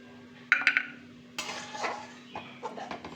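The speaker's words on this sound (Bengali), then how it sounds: "বাদামটাকে তুলে নেব।" Utensils scraping and clinking against a pan as fried peanuts are scooped out, a few sharp metallic clinks followed by softer scraping, fairly quiet.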